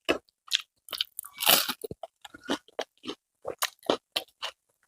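Close, loud bites and crunches on crispy fried pakoda made with kalamsaga greens, a quick run of sharp crackly chomps with a brief pause between bursts.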